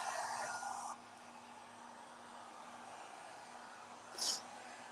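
Hair dryer blowing on gold leaf during a craft project, a steady airy rush that cuts off after about a second, leaving a quiet room with a brief louder burst near the end.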